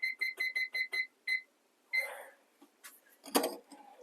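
A digital kitchen timer being set for 10 minutes gives a quick run of six crisp, evenly spaced beeps and then one more, followed by a few soft kitchen clatters and knocks.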